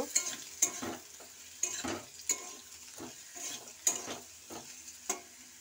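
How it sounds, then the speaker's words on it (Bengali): Potato pieces with a little turmeric fry in oil in a pan, a steady soft sizzle under repeated clacking spatula strokes scraping the metal, close by and with no talking. "আলুটা ভালো করে এটাকে আমি একটু লালচে করে ভেজে নেব।"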